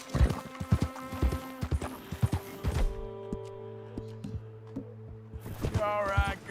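Horse hooves clip-clop in a steady rhythm over a game soundtrack in Red Dead Redemption 2, then pause before resuming, with music and game sounds around them.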